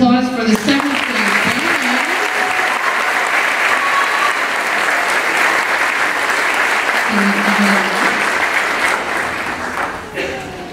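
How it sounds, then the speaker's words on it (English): Sustained applause from a school concert audience fills the hall for about ten seconds, steady and loud, with voices and a few cheers mixed in before it tapers off near the end. "another round of applause for the second stage"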